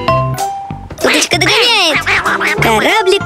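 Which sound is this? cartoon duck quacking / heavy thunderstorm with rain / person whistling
cartoon duck quacking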